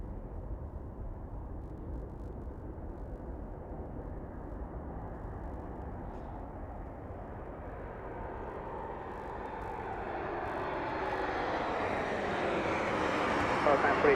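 A passenger jet takes off at Las Vegas Harry Reid Airport, its engine roar building steadily from a distant rumble into a loud, broad rush as it spools up and rolls.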